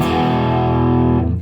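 Electric guitar chord through a Laney A0312 1x12 tube combo amp with slight distortion, a single loud sustained chord ringing for over a second before fading out.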